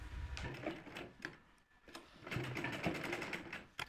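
A sewing machine stitching a small frock's shoulder seam in short uneven bursts, with clicking, rattling mechanical strokes heard close up and no talk.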